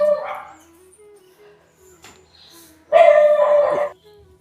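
Dogs barking and yelping near an outdoor home cooking area, a short burst at the start and then a louder, drawn-out, whining bark a few seconds later, with quiet gaps between.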